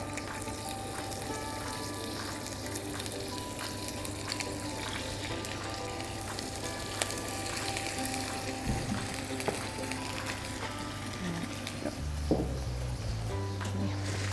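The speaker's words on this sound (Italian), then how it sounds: "Nel frattempo che le nostre acciughe stanno rosolando" Anchovies sizzle with garlic in a pan for a Sicilian seafood dish, a steady close frying hiss that continues throughout, with a few clinks near the end.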